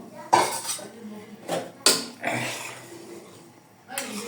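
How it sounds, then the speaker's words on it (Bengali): Fish dropped into a pot of boiling water with a lid handled, giving several sharp clinks and clatters of metal cookware with soft splashing between them, close and fairly loud, no talk. "আমার জলটা ফুটে গিয়েছে আমি মাছগুলো দিয়ে দেবো এই মাছ দিয়ে দিলাম মাছগুলো"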